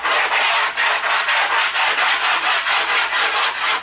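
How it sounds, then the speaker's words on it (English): Chalk rubbed across a wooden board coated in chalkboard paint, loud rhythmic back-and-forth scraping strokes, about a dozen even passes, close and alone. "you're going to condition this just by rubbing it all over the surface"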